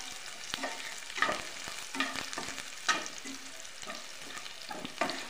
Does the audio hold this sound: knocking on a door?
no